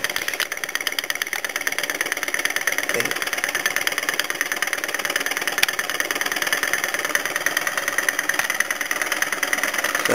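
A homemade laminar-flow thermoacoustic engine drives a small generator with no load, giving a steady, close mechanical hum with a fast, even ticking pulse that runs unbroken throughout.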